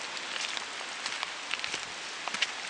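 Steady rain falling in a forest along a creek during a hike, a dense even patter with scattered sharper drops close by, no voices.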